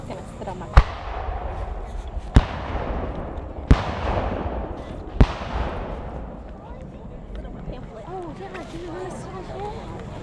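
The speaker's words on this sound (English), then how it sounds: "There's the cannon." Cannons firing at a Civil War battle reenactment of the Wilderness at Zoar, four loud booming blasts spaced a second or two apart, each rolling out into a long fading rumble across open ground, with spectators talking nearby.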